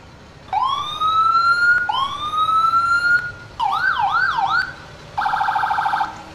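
Loud emergency vehicle siren in the video game EmergeNYC cycling through patterns: two rising wails, then a rapid warbling yelp, then a fast pulsing tone, each separated by short pauses.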